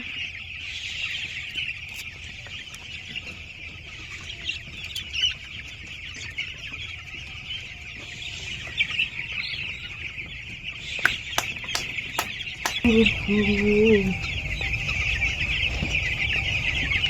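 A crowd of chicks huddled in a shed on a cold evening, peeping continuously and fairly loud nearby, with a few sharp clicks and a low rumbling noise rising toward the end.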